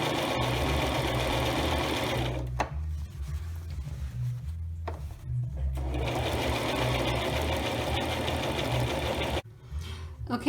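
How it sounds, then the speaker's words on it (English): A sewing machine stitches across the mitered corners of a cloth napkin, whirring steadily and rapidly. It stops briefly twice, then runs on, with a short halt near the end. "And I'm going to continue to sew."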